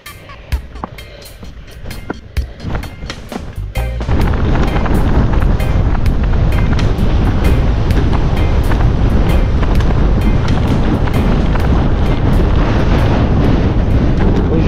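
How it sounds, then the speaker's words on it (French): Strong headwind buffets the microphone on an off-road bikepacking ride, a loud roaring rumble that starts abruptly after a few seconds of lighter gusts and then blows continuously. "Aujourd'hui, le plus difficile, c'est le vent."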